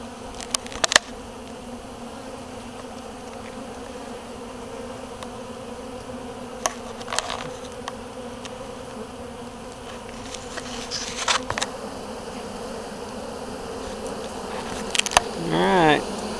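Honey bee swarm hanging on a cedar branch in Kansas, a steady close hum of many bees with a few individual insects buzzing past louder near the microphone.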